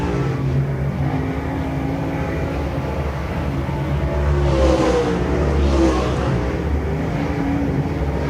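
Super late model race cars roar around Shelby County Speedway on the final lap of a heat race, a dense steady engine drone with rising and falling pitch as cars pass, loud and continuous without speech.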